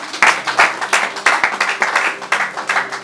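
A church congregation claps for Jesus in rhythmic, loud hand claps, steady repeated beats with cheering applause filling the room.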